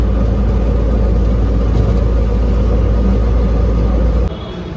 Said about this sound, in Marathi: गाडीचा आवाज येतोय, टेपचा आवाज येतोय, पुढून आवाज येतोय गाडीचा